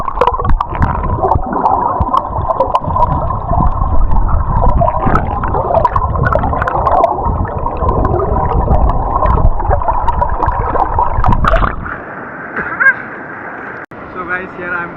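Underwater river sound during a dip in a clear, clean mountain river in Roing, Arunachal Pradesh: dense bubbling, gurgling and muffled rushing water close to the mic, then an abrupt shift to thinner, brighter sound near the end.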